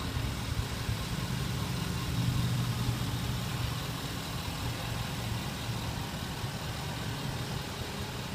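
A 2012 Range Rover Sport Autobiography idles, a smooth and steady low engine hum that runs without change throughout, with no talk.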